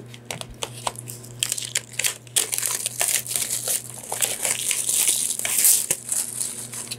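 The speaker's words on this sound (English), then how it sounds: "Let's open up the plastic." Plastic shrink wrap is torn and peeled off an anime limited-edition Blu-ray box set, bursts of close crinkling and crackling that start sparse and grow denser over a faint steady hum.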